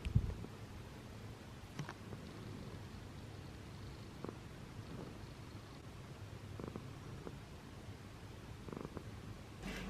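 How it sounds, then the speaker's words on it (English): A female cat who has lost her meow purrs steadily and softly up close, a low continuous rumble with occasional small rustles and no talking. "You can hear her purr though."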